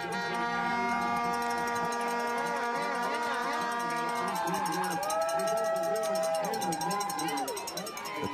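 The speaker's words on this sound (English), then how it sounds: "The crowd down at the bottom." A ski slalom crowd at the base of Howelson Hill cheers over constant ringing cowbells, a dense, loud, steady clamor with overlapping tones, and a commentator's voice speaks through it.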